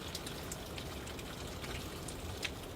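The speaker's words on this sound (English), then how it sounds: "It's raining." Steady rain falls in Norway, a continuous soft hiss with scattered faint drips and patters, even in level and with no voices.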